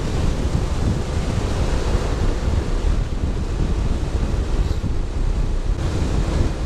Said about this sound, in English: It's not as bad, but I'm definitely not going into the wind as hard.